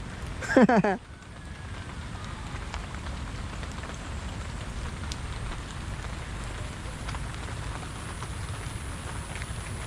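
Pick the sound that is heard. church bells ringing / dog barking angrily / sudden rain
sudden rain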